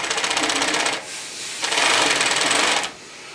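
An NC TPB carpet binding machine stitches tape onto a carpet edge in two bursts, a rapid, close mechanical chatter of needle strokes with a short pause between runs.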